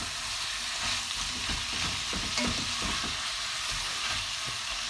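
Vegetables coated in paprika sizzle and fry in a pot over medium-high heat, a steady close hiss with small crackles and occasional stirring scrapes throughout.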